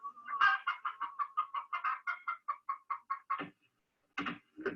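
Chickens in Borneo cluck in a quick, steady run of short calls. A few louder squawks follow after a brief pause, and the birds sound fairly faint and distant, with no talk.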